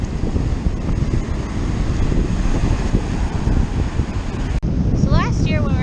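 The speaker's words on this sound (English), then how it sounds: "Hello, ocean." Steady broadband wash of ocean surf at a Melbourne, Florida beach in the evening, loud and continuous with wind buffeting the microphone, ending with a few high whistling or bird-like chirps.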